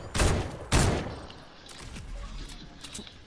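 In a video game, two sharp gunshots are fired into the air in quick succession, followed by fainter scattered pops and rumbling echoes, with no talking.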